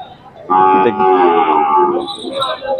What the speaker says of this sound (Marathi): पाहू शकता खिल्लार खोंड.